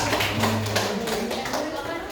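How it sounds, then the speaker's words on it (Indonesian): A class gives scattered, light clapping for a presenting student group in a university teaching session, with a voice talking over the patter. "tepuk tangan untuk kelompok pala"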